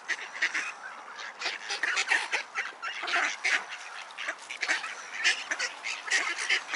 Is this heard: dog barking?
no